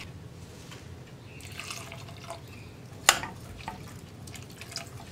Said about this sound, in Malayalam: ഇതിപ്പോൾ ഞാൻ കുറച്ചുകൂടി വെള്ളം ചേർക്കാൻ പോവാണ്.